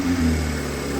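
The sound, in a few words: rebuilt Toyota Supra engine running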